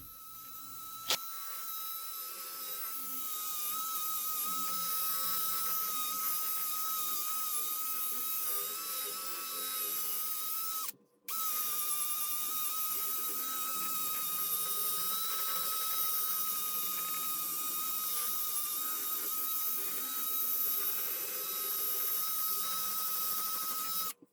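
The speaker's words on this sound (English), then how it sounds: "I'm going to use a drill with a nice soft foam pad." A drill fitted with a soft foam pad buffs a carved oak top, producing a steady, high whining drone that runs continuously for a long stretch with one brief stop, and nobody talks over it.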